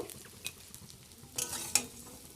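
Shrimp frying in hot oil in a kadai, a low steady crackle with a few brief utensil clinks and stirring scrapes near the end.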